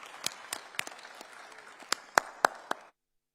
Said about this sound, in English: Sir, please, a big round of applause.